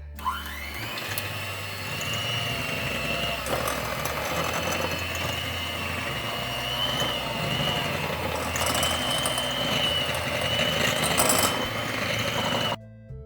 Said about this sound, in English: So the next thing for me to do is to plug it in and whisk it.